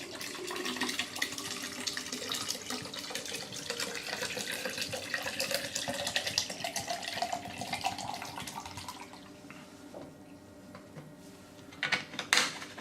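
Preservation liquid is poured into a perforated reverse-osmosis filter tube, a continuous close splashing trickle that gradually rises in pitch as the tube fills, then tapers into faint drips and small clinks near the end.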